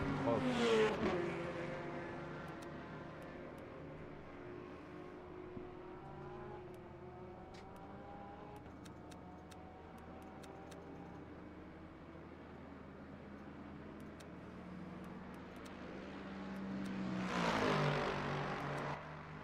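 A GTE race car engine in the racing game Le Mans Ultimate drones steadily, revving up and shifting through gears at moderate volume with a low background hum, and swells louder near the end.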